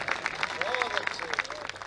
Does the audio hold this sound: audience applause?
yes